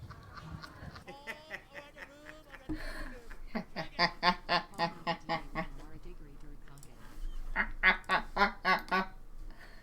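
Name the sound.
video of a duck quacking like laughter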